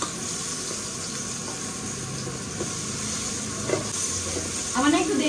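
Potatoes seasoned with salt and turmeric sizzle steadily in a pan while being stirred, with a scraping stir near the end over a constant frying hiss; no one speaks.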